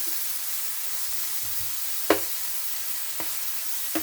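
Thin-sliced steak for a Philly steak salad frying in a pan, a soft, even sizzle under a few sharp scrapes and taps of a fork and spatula breaking up the meat.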